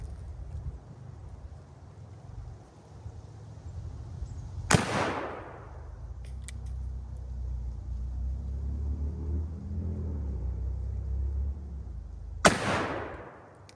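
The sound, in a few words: Colt 1860 Army revolver shooting the Kerr bullet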